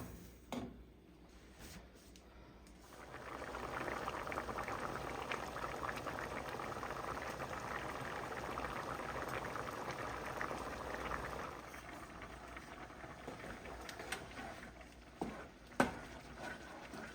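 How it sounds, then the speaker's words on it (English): A pot of stuffed pepper soup seasoned with garlic, pepper and salt comes to a boil, with soft bubbling that swells into a steady rolling simmer and then eases, followed by a few faint kitchen clicks. "some garlic, pepper, and salt, and bring it to a boil"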